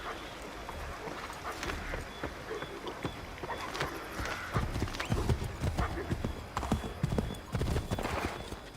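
Rhythmic horse hoofbeats clip-clop steadily in the video game Assassin's Creed III Remastered, growing louder partway through, with a brief whinny and light game-like background sounds.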